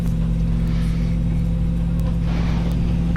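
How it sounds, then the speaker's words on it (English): An airliner engine spools up to a steady drone at start-up in Microsoft Flight Simulator, a loud constant hum with a faint rise in hiss near the end. "We have a good engine start."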